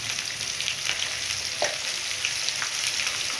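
Potatoes and tomato fry with turmeric in a hot pan for a potato dum, giving a constant bright sizzle with occasional stirring scrapes and small pops, close and unbroken.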